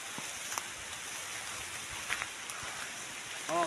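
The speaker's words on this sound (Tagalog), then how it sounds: "Ulan na ulan. Ulan kayo." Rain falling on a calamansi farm, a steady hiss of drops with a few sharper patters, heard outdoors without speech.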